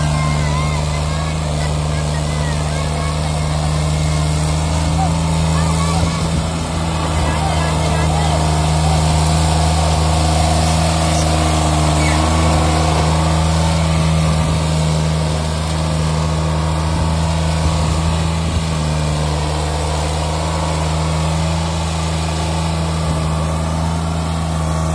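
Sonalika DI 22 tractor engine runs steadily with a loud low drone while the tractor sits stuck in soil piled in front of a wheel; voices talk over the engine throughout.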